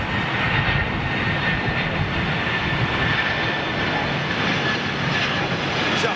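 An airliner's jet engines roar as it goes around at London Heathrow, a loud, continuous, steady rumble with no speech.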